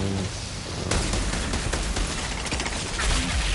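Rapid bursts of pistol gunfire in the video game Outriders, loud and dense, with shots crowding together into a steady barrage that runs through the whole stretch alongside other game sounds.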